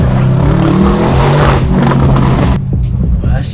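A Lamborghini Urus engine, cold, roars and revs loudly and continuously with a deep rumbling tone, then drops to a lower idle near the end; a voice is faintly present.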